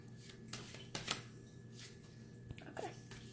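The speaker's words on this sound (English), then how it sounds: "he's really shuffling up the cards" A deck of playing cards is shuffled during a card magic trick, with a series of quick riffling bursts and soft flicks. The bursts come close and fairly loud against a low background hum.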